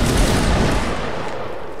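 A musket volley fired by line infantry in a video game: a loud, close, rolling burst of many shots merging into one roar that tails off into a fading rumble.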